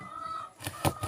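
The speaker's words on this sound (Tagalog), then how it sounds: "tapos kain ni Zoe, kay Zoe, mga manok, saka kay Boomer, yung aso po naman." Brief, faint clucking of chickens, ending in a couple of sharper, louder squawks.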